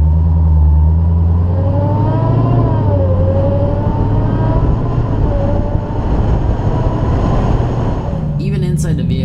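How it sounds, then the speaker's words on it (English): Supercharger whine from a 2018 Dodge SRT Hellcat accelerating, heard from inside the car as a loud rising and shifting tonal whine over deep engine rumble, with a brief break and clatter near the end. "inside the vehicle while you accelerate, you hear that supercharged whine"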